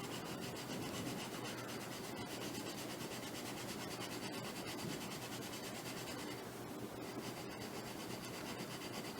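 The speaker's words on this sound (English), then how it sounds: "We're closer to 20 in here, so I'm going to sand just a little bit more." Sandpaper rubs in short, steady strokes across a rubber-powered indoor model airplane propeller, a continuous close, quiet rasping hiss with no talking.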